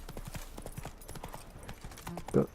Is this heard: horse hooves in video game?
yes